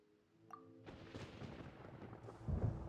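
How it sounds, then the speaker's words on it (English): Thunder in the Genshin Impact game, a deep rolling rumble that swells after a brief chime and builds louder toward the end, heavy and continuous without voices. "Paimon hears thunder!"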